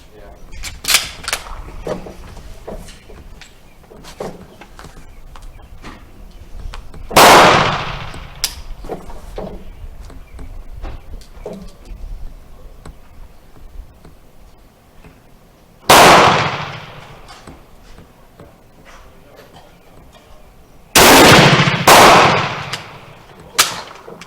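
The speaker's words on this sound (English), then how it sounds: "let's do 5 more, and then we'll go down and shoot the 10 shots in the right target" Model 1916 Berthier rifle firing at a range, three loud sharp shots spaced several seconds apart with the last two close together, with quieter clicks and handling noise and voices talking between shots.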